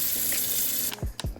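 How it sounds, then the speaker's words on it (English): Cold tap water runs steadily over a bag of frozen seafood being thawed for a New Orleans style seafood boil, a close continuous splashing hiss with a couple of heavier gurgling splashes near the end. "I'm just really running some cold water on them to break them up"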